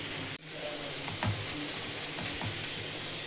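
Paneer bonda frying in hot sunflower oil, a steady close sizzle with a few faint clinks and stirring taps, no talking.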